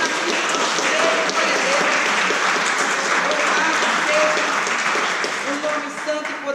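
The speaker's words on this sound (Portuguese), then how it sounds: "Aplauda Jesus nessa noite." Congregation in a church service applauding, a loud, dense, continuous burst of clapping with faint voices mixed in, easing slightly toward the end.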